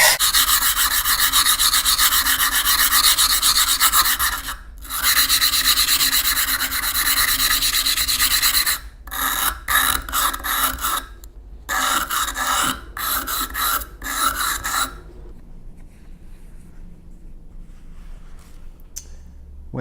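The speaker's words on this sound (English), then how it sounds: "You can start with the coarser one, which is the darker one, and move on to the finer sandpaper." Sandpaper rubbing back and forth along the edge of a glass or mirror sheet, coarse grit then finer, a steady close rasping scrape that pauses briefly and breaks into shorter strokes before stopping, with no talk.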